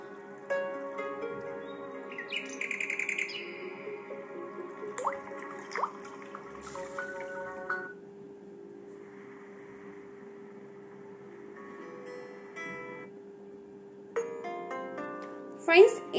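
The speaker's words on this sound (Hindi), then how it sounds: "आप देख सकते हैं ये भी ऐसे ही रिंगटोन बज रहा है" A vivo Y73 phone's alarm ringtone plays as a melodic chiming tone through the small handset speaker, moderately loud with pauses between phrases, then a brief burst of tones near the end.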